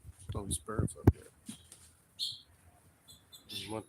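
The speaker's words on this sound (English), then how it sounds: "All these birds up here." Birds trapped inside a room near a boat under gelcoat repair give a few short, faint chirps and flutters, mixed with someone talking.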